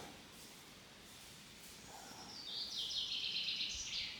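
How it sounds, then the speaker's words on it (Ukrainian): Birds chirp and sing in a quiet forest near the village of Shkurintsi, Vinnytsia region, Ukraine, the high twittering growing busier and louder toward the end. "Пташечки співають."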